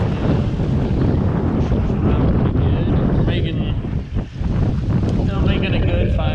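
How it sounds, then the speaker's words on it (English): Strong wind of 18 to 19 knots roars steadily into the microphone aboard a sailboat heading downwind, a heavy rumbling buffet with some water noise and a voice talking through it. "you can see the wind's not really letting up much"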